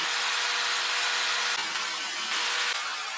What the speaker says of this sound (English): After setting up everything, we may start drilling the wall surface.